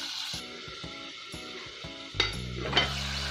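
Potato masala for a street-style masala dosa cooking in a pan, with steady rhythmic stirring scrapes over a soft sizzle and a couple of louder clanks near the end.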